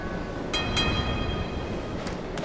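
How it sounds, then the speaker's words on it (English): In the game Gang Beasts, a train rumbles by at moderate volume, its steady low roll topped by brief tonal horn-like bursts. "I got a train."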